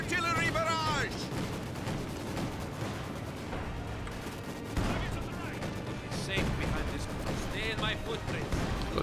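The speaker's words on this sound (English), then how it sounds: "Launch artillery barrage." Booming explosions and gunfire from an artillery barrage in the video game Company of Heroes 2 fill the battle soundscape continuously, loud and dense, with in-game voices shouting over the fighting.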